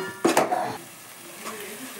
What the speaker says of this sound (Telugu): అల్లం కూడా పచ్చివాసన వేయేంత వరకు వేయించుకోవాలి ఆయిల్లో